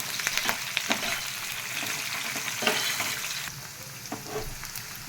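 Coarsely cut onions fry in a pan for gongura pachadi, making a soft, continuous sizzle with light crackles and occasional stirring scrapes, fairly quiet and close.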